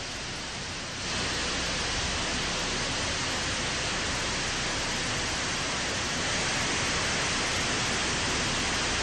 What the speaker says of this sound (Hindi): तेज रफ्तार से बह रहे पानी की आवाज दिल में खौफ भर रही है।